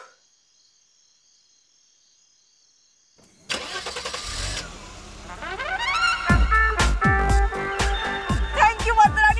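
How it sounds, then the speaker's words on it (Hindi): A car engine turns over and starts after a key is turned, following a few seconds of near silence, then rises into a loud, steady running sound layered with other busy sound. "प्लीज मेरी गाड़ी स्टार्ट करवा दो"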